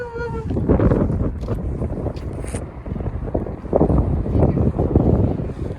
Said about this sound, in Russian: Ладно, ветер не страшно.